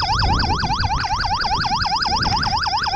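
A toy police car siren wails in a fast, steady up-and-down cycle, loud and close, repeating without a break over a low rumbling background.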